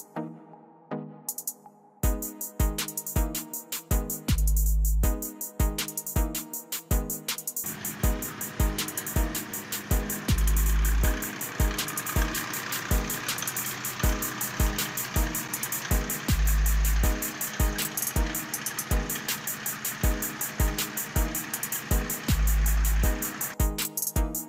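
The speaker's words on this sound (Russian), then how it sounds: "звук прямотока, рядной турбовой дизельной шестерки, это нечто" A 1982 Mercedes W123 with a 3.0 turbo inline-six diesel and straight-through exhaust: loud, rough idle broken by a series of sharp revving bursts that rise and fall repeatedly, with no talk.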